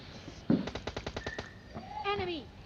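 Rapid gunfire in the mobile game PUBG Mobile Lite during a duo versus squad match, a quick burst of several clipped shots in a row followed by a brief whooshing game effect, with someone talking over it.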